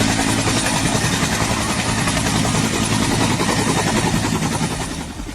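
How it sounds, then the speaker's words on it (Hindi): Helicopter hovering for a long time above the Lunuvila area in Sri Lanka before it crashed, a loud, steady broadband engine and rotor roar filling the whole clip, easing slightly at the very end. "ये हेलीकॉप्टर आसमान में काफी देर मंडराता रहा"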